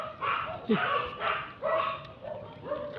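Several dogs bark close by in a noisy burst of repeated woofs and yelps, one after another with short gaps, loud and near.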